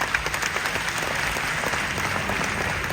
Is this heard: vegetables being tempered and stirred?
no